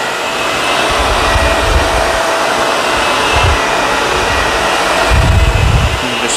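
A vacuum cleaner runs loudly and continuously on carpet, a steady whooshing roar with occasional low thumps as it moves across the floor.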